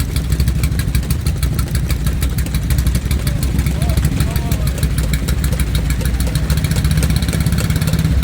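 A motorcycle engine idles loudly nearby at bike week in Pesaro, Italy, a steady throbbing rumble with faint rev blips, while people talk over it.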